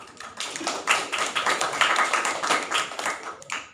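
An audience at a panel discussion claps for a few seconds, a busy patter of hands that stays fairly even before ending abruptly.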